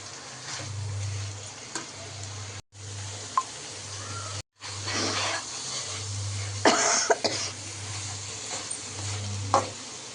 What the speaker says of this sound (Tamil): இந்த சைடு நம்ம அடி பிடிக்க விடாமல் நல்லா கிளறணும்.